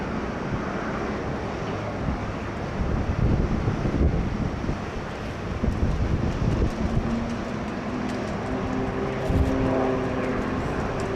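A heavy airliner takes off from runway 16 right at Sydney Airport, its broad, steady jet rumble filling the whole span with gusty wind buffeting the microphone.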